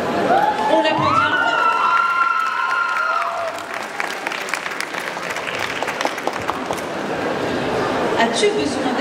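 Audience applause at a convention cosplay contest, a dense steady clapping wash with cheering running throughout, while a loud voice speaks over the first few seconds.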